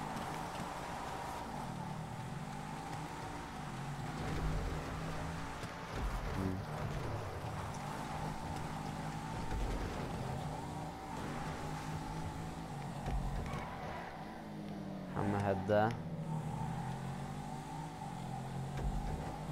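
A car in a racing video game drives and accelerates, its engine rising and falling in repeated revving sweeps with a moderate, close, continuous drone, briefly under a few spoken words.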